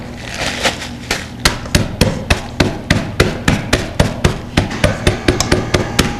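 Ginger snap cookies being pounded into fine crumbs, a run of sharp, regular thumping blows about three per second, close and loud, with no speech.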